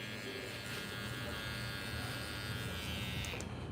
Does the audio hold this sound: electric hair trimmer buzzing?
yes